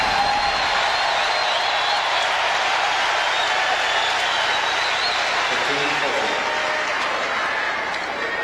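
Tennis crowd at the 2002 US Open semifinal between Agassi and Hewitt, a steady dense roar of cheering and applause sustained throughout at a loud, even level.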